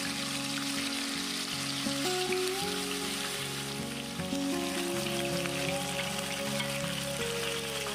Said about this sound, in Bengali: তারপর আমাদের এই চিকেনগুলোকে হাই ফ্লেমে প্রায় 3 থেকে 4 মিনিটের জন্য হালকা করে ভেজে নিতে হবে।